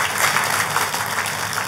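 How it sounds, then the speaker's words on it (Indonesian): A church congregation claps together in a steady, dense wash of applause that stays loud and unbroken for a short stretch with no talking over it. "Tepuk tangan sekali lagi yang meriah buat Tuhan kita"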